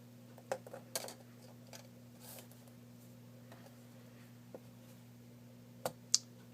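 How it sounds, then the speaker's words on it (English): The plastic front bezel of a BlackBerry Bold 9700 phone unclips with a few faint, sparse plastic snaps and clicks, spread out over a low steady hum. "The front bezel now will come off by putting slight pressure and pressing upward."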